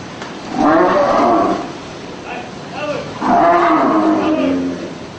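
Cattle moo twice, long loud bellowing calls close by with a short pause between them.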